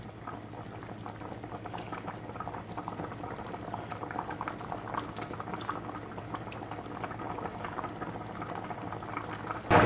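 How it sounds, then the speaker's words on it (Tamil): A pot of dry fish coconut milk curry at a rolling boil, with continuous close bubbling and popping at a soft, steady level and no talk. "ஒரு கொதி வந்திருக்குது."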